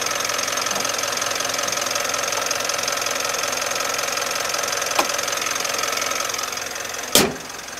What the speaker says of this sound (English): Engine is idling now and it's just over 600 rpm.